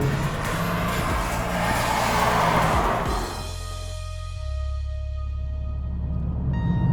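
A Mercedes-AMG A45 S hatchback driven hard, its engine roaring loudly up through the revs, then easing off to a steady lower drone with a gear change, heard close with no talk.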